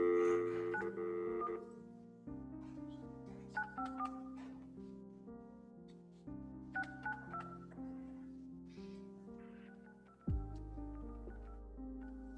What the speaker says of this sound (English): I'm going to try and call your lawyer right now, see if I can get him on the phone